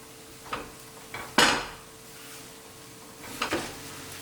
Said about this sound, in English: And now I add all the tomato and the plantain.